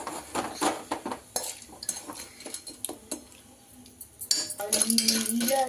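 A utensil stirs popcorn kernels roasting in oil inside a pressure cooker, making irregular metallic scrapes and clinks against the pot, close and moderately loud, with no talk.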